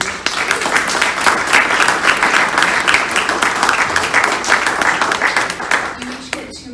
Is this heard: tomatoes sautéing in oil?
no